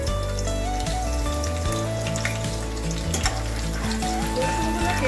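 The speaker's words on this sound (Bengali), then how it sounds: "তেলটা গরম হয়ে গেছে, এবার আমি এর মধ্যে দিয়ে দেবো রসুন কুচি।" Finely chopped garlic frying in hot white oil in a kadai gives a steady, dense sizzle that runs under loud, continuous background music.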